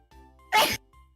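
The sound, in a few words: sneeze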